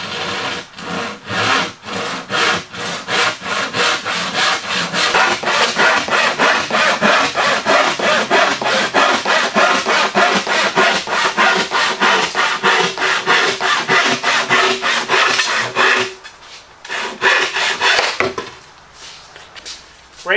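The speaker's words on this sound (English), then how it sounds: "Grab your saw and have at it." A hand saw cuts wood for a workbench build in steady, rhythmic back-and-forth strokes, loud and close. The strokes keep going for about fifteen seconds, break off briefly, then come back for a few last passes.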